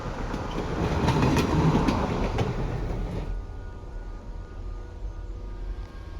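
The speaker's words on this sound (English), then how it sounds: "Train coming right down the track." A train rolls down the track past a supposed haunted site, loud broadband rumble building over the first three seconds and then easing into a steadier, quieter clatter of wheels on rail.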